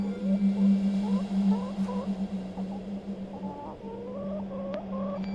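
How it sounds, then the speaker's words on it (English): A plump hen in the adventure game The Excavation of Hob's Barrow gives a series of soft, rising clucks and warbling calls over a steady low hum, moderately close and with no talk. "A sweet little hen, plump and well groomed."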